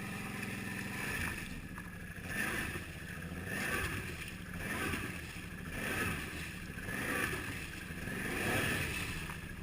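A 2012 Can-Am Outlander 800XT ATV on 28-inch Outlaw tyres churns in mud in two-wheel drive, engine revving in repeated surging waves as it struggles, with wind buffeting the microphone.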